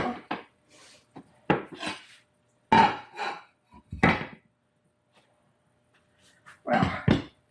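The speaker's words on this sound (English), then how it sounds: "I'm getting my sliders out of the oven now." Sliders come out of a home oven: a handful of sharp metallic clanks and scrapes of pan and rack, spaced out between quiet gaps, close and fairly loud.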